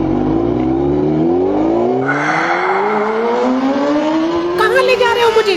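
A Honda motorbike engine revs with a rising, steadily climbing drone, the pitch sweeping upward and swelling louder near the end, close by and continuous.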